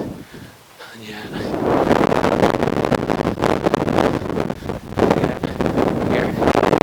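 Wind gusts across an exposed tor on Slieve Bearnagh in the Mourne Mountains, Co. Down, buffeting the microphone in a loud, continuous broadband rush after a brief quieter start.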